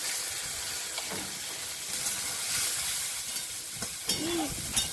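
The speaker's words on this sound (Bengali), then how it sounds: "কড়ার মধ্যে একটু তেল দিয়ে, তেলের মধ্যে একটু 5 ফোড়ন দেবো, একটু পেঁয়াজ কুচি আর রসুন কুচি" Panch phoron spices, chopped onion and garlic sizzle in hot oil in a wok, a steady, fairly soft hiss with a few brief clinks and stirring knocks near the end.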